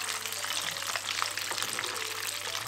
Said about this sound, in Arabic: وهاي الكبة بعد ما لفيناها راح أبدي هنا أقليها بدهن كلش عالي